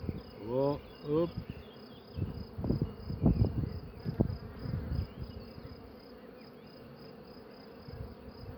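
Honeybees buzzing around an open beehive frame during an inspection of a drone hive, a soft continuous hum with louder passes of individual bees close by, plus a few handling knocks.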